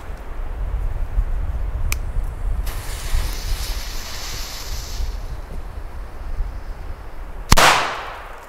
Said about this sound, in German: Und als letztes kommen die D-Böller von Diamond Feuerwerk.